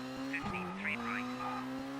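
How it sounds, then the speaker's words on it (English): A rally car skidding on tarmac in Colin McRae Rally 2.0 at the Rallye de France: a steady engine drone with squealing tire chirps layered over it, close and continuous through two seconds. "you can hear the thing just skidding along as you wreck the tires"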